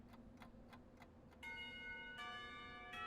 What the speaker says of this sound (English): The bells ring for lunch break, startling me back into reality.